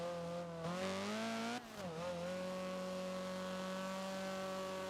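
A Honda CRX engine roars at full throttle in Forza while leaving the pits at Sonoma. The buzzy, steady tone climbs, dips briefly at a gear change, then settles into a sustained high-revving drone that stays loud and close throughout.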